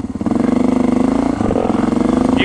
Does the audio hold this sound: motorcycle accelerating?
yes